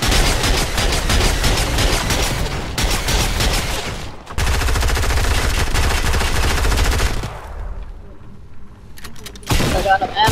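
Rapid machine gun bursts in a video game, loud and sustained, with dense gunfire running through most of the span, a short break near the middle and quieter moments toward the end, mixed with game sounds and players talking.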